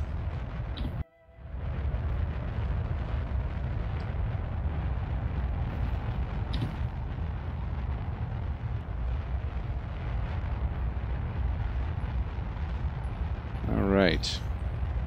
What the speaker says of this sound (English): As you can see, I am using a rhinoceros rocket.